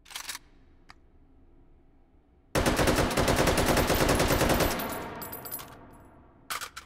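Full-auto bursts from a Draco AK pistol in the VR shooter Hot Dogs, Horseshoes & Hand Grenades: a loud, dense rattle of rapid shots lasting about two seconds, trailing off, with brief isolated mechanical clacks before and after.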